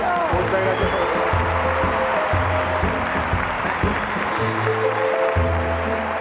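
Studio audience applause on the Colombian talent show Colombia Tiene Talento: a steady wash of clapping runs throughout, with music and a talking voice layered over it.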